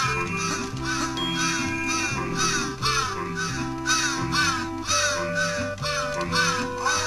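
A crow caws in the video game Santa Claus in Trouble, repeating harsh, rasping calls in a steady rhythm over looping background game music.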